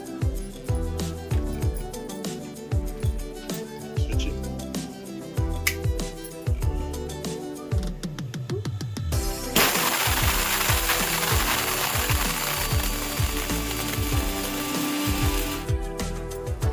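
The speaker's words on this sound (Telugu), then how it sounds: "ఇదిగోండి మిక్సీలో అయితే వేస్తున్నాను పొడికి." A kitchen mixer grinder grinding roasted mustard seeds and fenugreek into powder, first rattling in short rhythmic bursts, then a loud continuous whirring roar for several seconds before it stops, close by with no talking.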